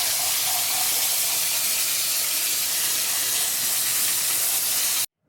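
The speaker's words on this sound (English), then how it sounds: "we're first going to rinse the rice to get any excess starch off" Rice being rinsed under a running kitchen tap to wash off excess starch, a steady close hiss of flowing water for several seconds that stops abruptly at the end.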